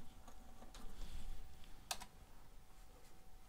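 Quiet typing on a computer keyboard, with a short run of light key clicks and one sharper click in the middle, heard alone with no talk.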